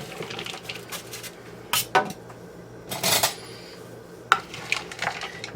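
Chopped bacon, ham, smoked sausage and celery being stirred in a bowl, with scattered clinks and scrapes of a utensil against the dish amid a quiet kitchen background.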